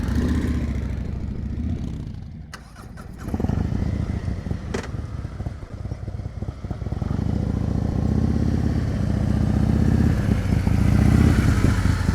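Motorcycle engine running at low speed during slow-speed riding skills practice in Georgia, a steady mid-pitched idle and putter with clutch-controlled revving that briefly dips, then holds loud and continuous throughout.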